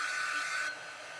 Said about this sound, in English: I'm going to dry this fall candles a little bit.